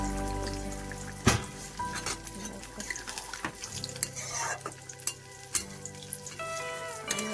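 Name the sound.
water added to cooking jackfruit prawn curry sizzling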